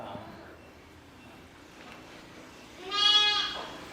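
A Beetal and native cross sheep lamb on a breeding farm gives a single loud, wavering bleat near the end, over a low background murmur.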